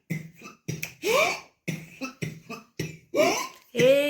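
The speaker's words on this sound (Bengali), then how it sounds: "এই কাশি ঠিক এই রকম।" A woman coughs repeatedly in a series of sharp, close bursts, roughly eight of them, with short gaps and a few longer, raspy hacks between.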